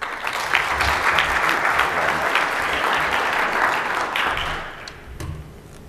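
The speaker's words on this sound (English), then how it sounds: "Please give a round of applause for Trevor." A conference audience in New Orleans applauds a speaker as he is introduced: loud, dense clapping from a full room that holds steady, then thins and fades over the last second or so.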